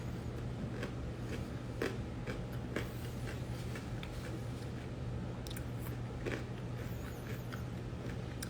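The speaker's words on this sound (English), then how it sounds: "I'm done with these veggies because I chew so much." Raw vegetables such as carrots are chewed close to the mic, a series of crisp, irregular crunching bites over a steady low hum, with no talking.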